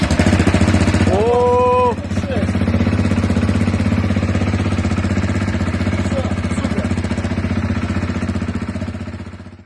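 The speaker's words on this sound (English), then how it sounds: "it turns out the bike starts" A motorcycle that had been taken apart and reassembled is started and settles into a steady, close, loud idle with a rapid regular engine pulse, while a short exclamation cuts in near the start.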